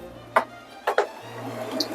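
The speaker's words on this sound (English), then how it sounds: "gonna put some ice in here too" Ice cubes dropped into a drink glass while a Thanksgiving mocktail is made, giving a few sharp clinks and splashy knocks close by, in about three quick bursts.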